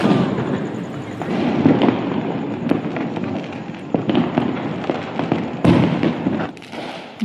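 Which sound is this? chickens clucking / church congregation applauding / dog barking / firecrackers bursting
firecrackers bursting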